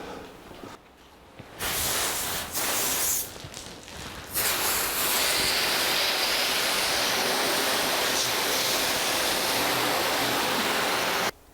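Water hisses loudly and steadily as it rinses the hood of a 1982 Jeep CJ7. The spray starts and stops briefly a couple of times early on, then runs unbroken at close range.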